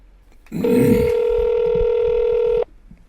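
A telephone call rings through before being forwarded to a Mitel voicemail system: one clear, steady electronic tone lasting about two seconds, heard close and alone before it cuts off.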